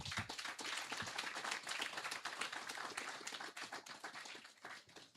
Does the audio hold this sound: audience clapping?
yes